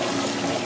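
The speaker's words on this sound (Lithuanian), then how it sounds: "Iš čia bėga vanduo, taip, ir iš ten, iš antro." Water pours steadily from a pair of fountain pipes at a children's museum in Sacramento, with a continuous, close splashing rush and no voices.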